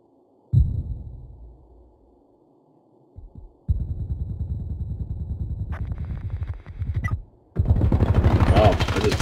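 Rapid bursts of gunfire crackle in a tactical shooter match of Ground Branch capture-the-flag, blind firing after grenade blasts, several loud sustained volleys broken by short pauses, with a voice briefly talking between them.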